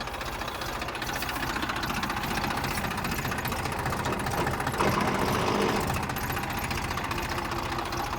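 A TAFE 1035 tractor engine labours under a heavy pull, its dense low rumble and knocking running steadily near and loud throughout, swelling briefly in the middle.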